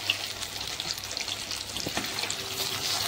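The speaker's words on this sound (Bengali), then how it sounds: "তো চলো উল্টো পাল্টে দিলাম, এখন সুন্দর করে আরেকটা দিকেও লাল লাল করে ভেজে নেব" Fish frying in oil after being flipped to brown the other side, a steady close bright sizzle with crackling throughout, no voices.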